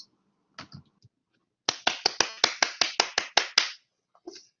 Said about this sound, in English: She deserves extra applause for doing that.